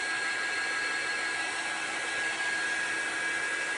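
A hair dryer blows steadily and loudly on fabric painted with chalk paste ink, its even whirring drone filling the whole stretch with no breaks.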